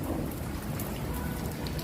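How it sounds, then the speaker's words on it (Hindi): Heavy rain patters and drips steadily from a roof during a storm, a dense close wash of water with no voices. "और ये देखिए बारिश के पानी टपक रहा है, ये सारा नीचे पानी आ रहा है यहाँ से छत से।"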